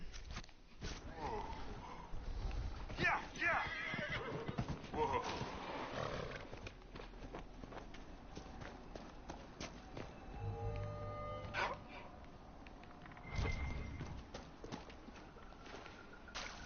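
Horse neighing and hooves clopping in the video game Dragon Age Inquisition, mixed with in-game ambience and music while someone talks over it through most of the stretch.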